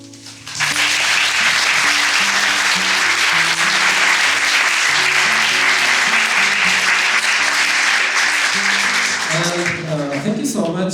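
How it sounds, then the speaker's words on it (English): Loud, sustained applause from an audience for a podcast guest rises suddenly and holds for about ten seconds, dense clapping close by with background music underneath, then fades as a voice begins speaking. "So please give big applause to him."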